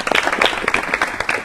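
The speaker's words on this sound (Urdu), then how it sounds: "پھر سے ایک بار زوردار تالیاں" An audience at a space-technology career talk breaks into lively applause, with distinct overlapping claps at close range forming an energetic, uneven burst.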